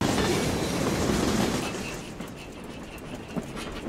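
A train runs on rails in a scene from The Legend of Zorro, a loud rushing rumble with clattering wheels that eases slightly after the first couple of seconds.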